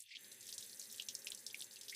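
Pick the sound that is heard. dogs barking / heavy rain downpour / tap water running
tap water running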